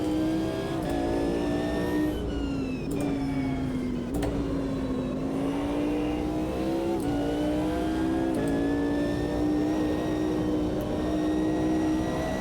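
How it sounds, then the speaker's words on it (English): A GT1 race car in Automobilista 2 drives with its engine droning and the gearbox whining, the pitch rising and dropping through gear changes, a continuous loud sound heard on its own. "I love the sound of the gearbox as well, just whining away."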